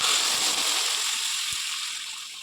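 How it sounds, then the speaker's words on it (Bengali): Water pours steadily into a pan of half-cooked potatoes, a close, continuous rushing hiss that tapers slightly toward the end. "এবার পরিমাণ মতন জল দিয়ে দেবো।"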